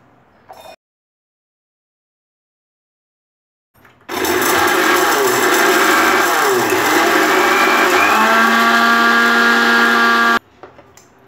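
A mixer grinder whirs loudly and continuously for several seconds, grinding garlic and green chillies into a coarse paste, its pitch shifting slightly as the load settles before it cuts off abruptly, with no talking.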